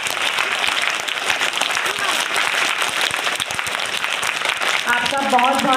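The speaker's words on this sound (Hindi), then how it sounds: "सभी बच्चे तालियों से स्वागत करेंगे।" A crowd of children at a school event claps in a steady, dense round of applause lasting throughout, with voices rising near the end.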